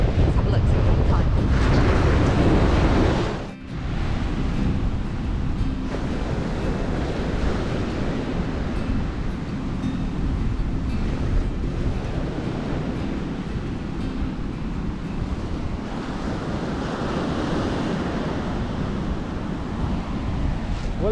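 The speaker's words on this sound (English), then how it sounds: "There's some big waves, you might be able to hear them." Big waves break and roar on a windy, cold Welsh beach, a loud continuous surf wash with heavy wind buffeting the microphone, a brief dip early on, then steady crashing throughout.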